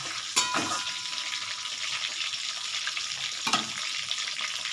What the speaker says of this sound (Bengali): গ্যাসটা বাড়িয়ে দিই, মাছের মাথাটা একটু ভেজে নিচ্ছি।